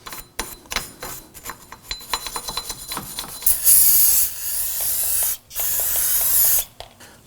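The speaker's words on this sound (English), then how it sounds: "Periodically spray it down with some brake solvent to clean up anything" Brake solvent hisses from an aerosol can onto the rear hub face of a 2005-2009 Subaru Legacy during a parking brake shoe job, starting as faint ticks and then running as loud sustained bursts with a short break between them, with no talk.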